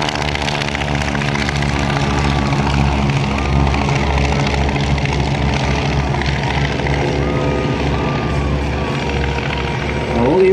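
Several propeller biplanes, led by a Starduster 2, fly in V formation over an aerodrome airshow in Bealeton, a loud, continuous droning engine roar with pulsing beats that swells slightly as they pass near.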